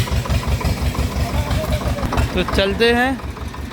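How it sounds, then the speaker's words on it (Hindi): A Swaraj tractor engine runs with a steady low, pulsing chug on a rain-soaked rural track, close and continuous, while someone speaks over it and another voice calls out near the end. "ये आ रहा है ट्रैक्टर, गाइस ले जा रहे हैं तलाह की ओर"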